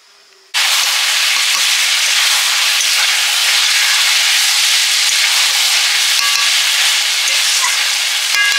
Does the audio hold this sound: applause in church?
no